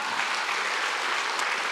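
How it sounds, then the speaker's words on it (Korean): A church congregation claps hands together in steady applause during a 120th-anniversary revival service, a dense continuous patter of many hands that fills the moment with no talking over it. "다시 박수 한번 쳐요"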